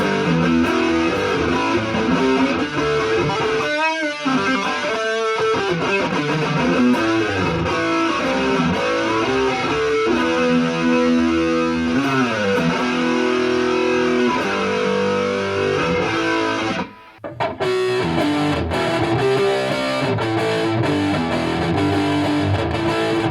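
Heavily distorted electric guitar through a Blackstar ID Core 100 or Boss Katana Artist amp plays continuously and loud, thick sustained chords and riffs with one brief break near the end.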